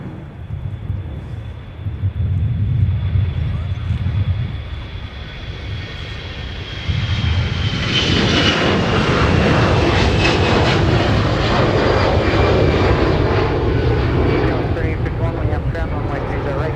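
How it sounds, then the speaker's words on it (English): A Delta A321 jet departs on the south parallel runway at MSP airport, a loud roaring engine rumble that swells and persists through wind noise, with air traffic radio voices faintly under it. "we got a nice south parallel departure with Delta A321"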